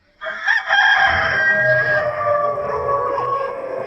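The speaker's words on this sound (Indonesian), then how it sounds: "Ayam betina berkokok, dunia terbalik." A chicken crows loudly and close by, one long, strained cock-a-doodle call holding steady for several seconds with no other sounds around it.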